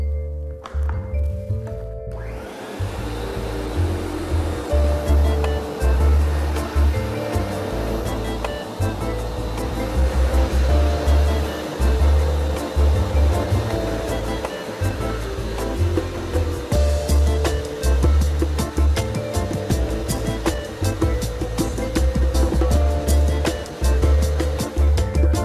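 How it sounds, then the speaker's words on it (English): A compact Kärcher BR34 scrubber-dryer scrubs and vacuums a floor, giving a steady, loud mechanical drone with a pulsing low rumble from the brushes and a brief pause near the start. "First scrubbing, then scrubbing and vacuuming."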